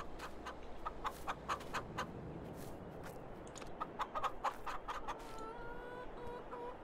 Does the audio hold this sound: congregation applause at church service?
no